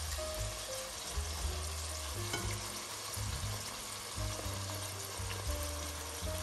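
Chickpeas sizzle and fry in a pan for creamy Roman-style pasta e ceci, a steady close crackle running throughout with occasional stirring clatter and no talking.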